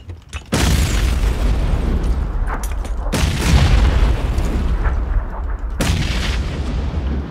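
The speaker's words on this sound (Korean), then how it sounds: "수류탄 던진다" Grenade blasts boom in the battle royale game PUBG: Battlegrounds. Three loud, close detonations each roll into a long rumbling tail.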